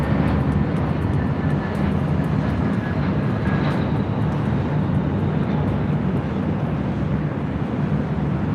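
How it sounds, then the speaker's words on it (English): A JetBlue Airbus A321 jet airliner arrives at LAX on the north side, its broad engine roar holding steady and loud throughout with a faint high whine riding above the rumble. "the JetBlue A321 next arrival here on the north side"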